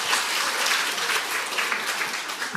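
A church audience bursts into applause, a dense, steady clapping from many hands filling the room at full strength for a few seconds, with no speech over it.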